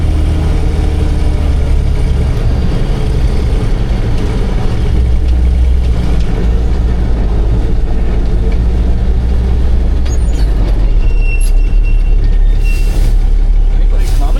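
A vehicle with its newly fitted muffler cruises along, the engine a loud, steady low drone throughout with someone talking over it.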